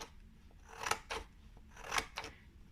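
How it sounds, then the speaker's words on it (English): Scissors snip paper to cut a fringe, four crisp cuts in two quick pairs about a second apart, close and clear against a quiet room. "Next thing will be to snip the bottom of your paper"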